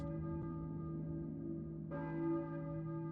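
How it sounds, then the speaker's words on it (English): A church bell tolls in the Silent Hill video game, a sustained ringing tone that fades and is struck again about two seconds in, heard alone against a quiet backdrop. "I hear a church bell, maybe. Who's ringing the bell?"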